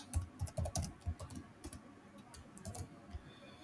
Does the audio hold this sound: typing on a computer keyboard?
yes